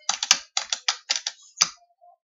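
Rapid bursts of computer keyboard typing, close and crisp, with clusters of key clicks separated by short pauses.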